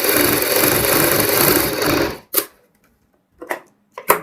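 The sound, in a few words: sewing machine stitching along buckram edge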